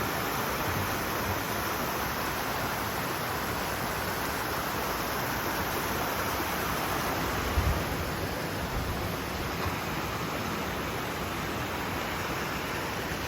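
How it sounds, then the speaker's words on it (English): Water runs beneath a small bridge in Kennall Vale Nature Reserve, Cornwall, making a steady, even rushing that fills the whole stretch with no breaks. "It sounds like there's running water here over this little bridge."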